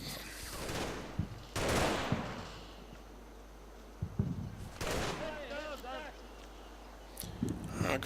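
MG42 machine gun fire in the Combat Mission WWII game, heard as a few separate bursts and sharp cracks spread across the clip, with a voice talking over parts of it.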